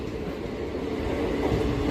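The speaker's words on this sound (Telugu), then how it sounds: "నర్సాపూర్ నుంచి నాగర్సోల్ వెళ్ళే ఎక్స్ప్రెస్ అయితే వెళ్ళిపోతుంది" The Narsapur to Nagarsol express runs through a station without stopping, a loud steady rumble of rolling carriages close by that builds slightly.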